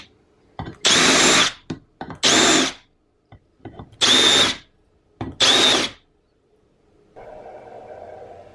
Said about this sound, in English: I think I'll countersunk them a little bit to make the tapping easier.